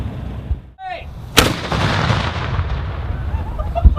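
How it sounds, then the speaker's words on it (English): M24 Chaffee tank cannon firing a single loud, sharp blast up close, followed by a long rumbling roar and echo under steady engine and crowd noise. "I got to fire the cannon."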